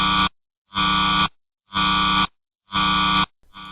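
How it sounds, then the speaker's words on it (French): An alarm on a submarine drone's control screen sounds in loud, harsh buzzing pulses, four evenly spaced blasts separated by short silences. "Un message d'alarme apparaît sous notre écran de contrôle"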